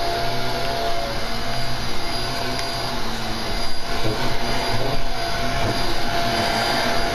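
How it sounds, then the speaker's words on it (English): A vacuum cleaner enemy in a video game closes in with a loud, steady roaring drone that swells slightly near the middle, accompanied by a constant high-pitched electronic whine and no talking. "Nope, the vacuum's getting closer."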